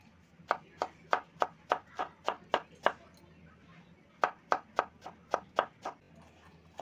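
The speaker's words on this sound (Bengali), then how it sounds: "বেগুনের ভিতরে যে অংশটা ছিল সেটা এবার এখানে আমি কেটে নেব" A knife chopping the inner part of an eggplant on a board: two runs of crisp, evenly spaced cuts, about nine and then seven strokes, close and distinct with a short pause between.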